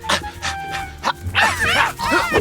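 An animated cartoon dog gives a few quick yapping barks that slide into high, whining yips and whimpers, loud and close.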